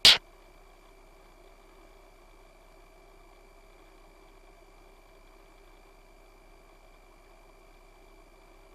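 The engine of a T-6 aircraft hums steadily in flight, a faint, even drone with constant tones after a brief sharp click at the very start.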